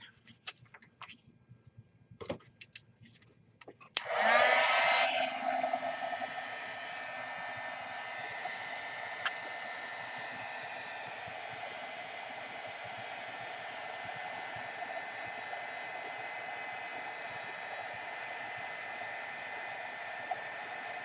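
Heat tool warming stamped vellum for craft embellishments, a few soft clicks and then a steady, close whooshing blow that starts abruptly and runs on continuously.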